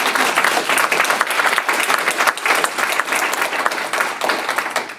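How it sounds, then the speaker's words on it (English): An audience at a magazine launch and award event claps steadily in a full, sustained round of applause for the authors, a busy continuous patter of many hands. "please, round of applause for all the authors."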